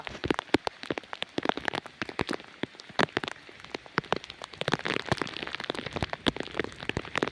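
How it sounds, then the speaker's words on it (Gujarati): Heavy rain pours steadily, dense drops pattering hard on a surface with sharp close splats throughout, loud and continuous with no voices. "આમ વરસાદ જ જવો તમે જવો"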